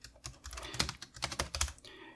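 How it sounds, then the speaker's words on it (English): Fingers typing on the full-size rubber dome keyboard of an AlphaSmart Dana, a quick irregular patter of soft, muffled keystrokes, close and fairly quiet, with no talking. "it is a rubber dome keyboard and isn't the greatest"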